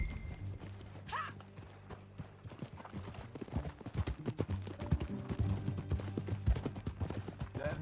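Horse hooves clip-clop steadily at a riding pace in Red Dead Redemption 2, close and rhythmic over a low ambient music bed, with a brief whinny early on.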